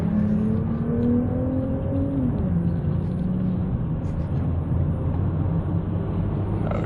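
A big truck drives close by on the road, its heavy engine rumbling and whirring loud and steady, with a falling gear-change tone partway through.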